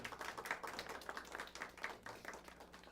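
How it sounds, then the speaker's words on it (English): Audience applause for a student quiz team and teacher coordinator at a high school quiz competition, a dense patter of claps at moderate level, fairly distant and steady. "give them a round of applause, won't you?"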